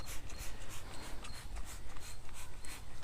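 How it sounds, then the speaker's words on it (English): Grease and grime are scrubbed off a vintage mountain bike during washing outdoors in the shade, with close, continuous rhythmic brushing and rubbing strokes and no talking. "Good day for washing a bike in the shade. Get some of this grease and grime out of here."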